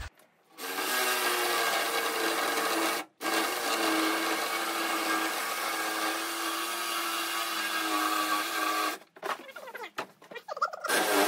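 A reciprocating saw cuts through wood for a cabinet build, a loud continuous rasping buzz running for several seconds, briefly stopping once, then ending with short sputtering bursts.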